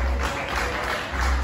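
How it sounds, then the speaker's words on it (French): A pageant audience at a Miss and Mister contest applauds a contestant, giving a short, dense burst of clapping over a noisy hall with a low hum. "Mesdames et messieurs, applaudissez-la."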